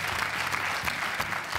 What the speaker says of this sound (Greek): Δεν θέλω να σταματήσετε να χειροκροτείτε.